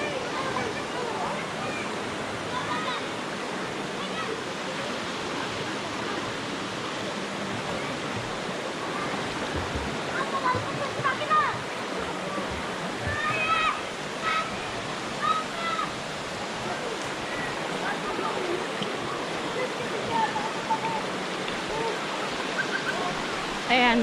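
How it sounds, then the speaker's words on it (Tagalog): Gabur-Gabur Falls in Nanguilattan, Peñablanca, Cagayan Valley, a steady, continuous rush of falling water close by, broadband and unbroken throughout, with faint scattered higher sounds over the roar. "Ito na po yung part nung Gabor-Gabor Falls."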